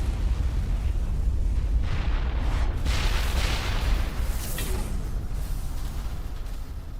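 Explosion in the video game Mass Effect, a loud, sustained rumbling blast that roars for the whole stretch with no voices, fading only slightly at the end.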